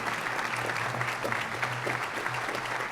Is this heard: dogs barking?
no